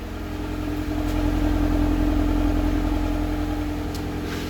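A Honda Civic engine idles steadily after an overhaul, a smooth continuous low hum with a constant mechanical drone, heard close and alone with no talk.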